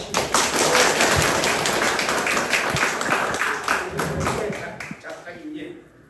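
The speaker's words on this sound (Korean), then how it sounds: "박수 한번 주시죠." A small audience claps at a graduation ceremony for horse heritage interpreters. The fast, dense patter of many hands is close and fairly loud, then thins out and fades near the end.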